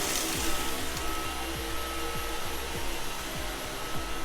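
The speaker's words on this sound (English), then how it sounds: "we're going to see how strong this Dyson really is, this Dyson V11 Outsize." A Dyson V11 Outsize cordless vacuum cleaner runs with a steady high whine while sucking up debris from the floor, with repeated short rattling pickups in quick rhythm.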